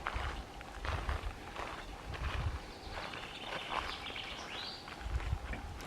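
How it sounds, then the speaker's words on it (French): Birds chirp faintly in a quiet forest, with a few thin calls rising over close footsteps crunching through leaves and undergrowth. "On entend les oiseaux."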